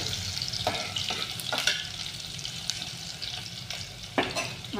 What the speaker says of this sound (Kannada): ಅದೆಲ್ಲ ಮಸಾಲ ಹಾಕಿ ಹಾಕಿ ಒಂಚೂರು ಒಂದು ಹತ್ತು ಸೆಕೆಂಡ್ ಫ್ರೈ ಮಾಡ್ಕೊಳ್ರಿ